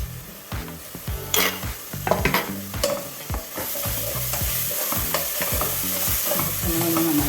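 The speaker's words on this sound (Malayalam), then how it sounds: "പച്ചമുളക് നന്നായിട്ട് വഴറ്റിയെടുക്കുക." Green chilies sautéing with onion in a pan while cooking fish biryani: a rhythmic scrape-and-clatter of stirring over a steady, close frying sizzle throughout.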